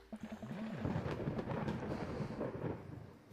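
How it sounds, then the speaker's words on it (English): Thunder from the video game Dream Daddy, set on a chilly night outside a crowded movie theater, rolls as a deep, continuous rumble with a few stronger swells, filling the scene without any voices. "Thunder, lightning."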